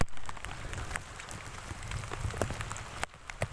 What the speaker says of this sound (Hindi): बारिश भी बहुत तेज़ आ रही है